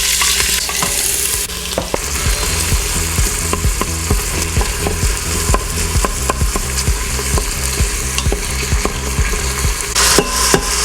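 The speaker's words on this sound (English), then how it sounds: "My oil is ready, so I'm going to add all these onions." Onions dropped into hot oil for beef tehari, sizzling and frying steadily while a utensil stirs and scrapes the pan in a regular rhythm, close and continuous.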